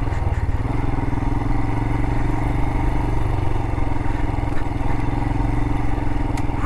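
A motorcycle engine-braking in first gear on a rocky canyon Jeep trail, a loud, steady, close chugging drone with rattling clatter throughout and no talk.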